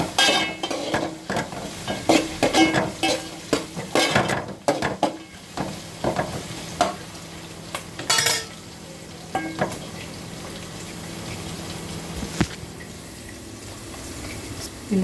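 Mint and coriander leaves for chicken biryani fry in a pan with a steady sizzle, under repeated scraping and stirring clatter that is busiest early on and settles into a constant hiss.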